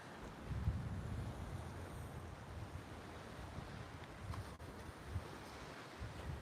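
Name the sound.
wind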